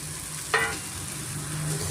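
Fried bitter gourd tipped into a pan of gojju: a single short clatter and brief sizzle, then a quiet low hum.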